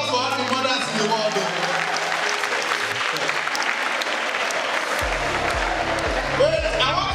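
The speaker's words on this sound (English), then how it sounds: "A round of applause for all the mothers in the world." An audience at an African women's event applauds the mothers in a strong, sustained round of clapping, with music tones and voices running underneath.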